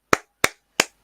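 Three sharp, separate hand claps land at an even pace, each dry and close, with silence between them and no voices.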